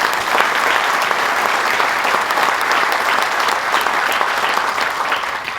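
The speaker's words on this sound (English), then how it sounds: "Let's give him a round of applause." An audience at a business council presentation in Bolton Landing claps in a loud, sustained round of applause, a thick even roar of many hands that tapers slightly at the end.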